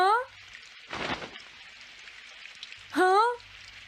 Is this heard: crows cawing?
no